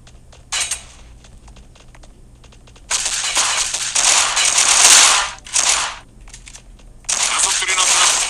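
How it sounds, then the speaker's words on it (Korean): Grenade blast and gunfire in the online shooter Phantom Strike, with crackling bursts of shots and a long loud burst of blast noise in the middle, close and intense, followed by more firing. "수류탄 터쳐라."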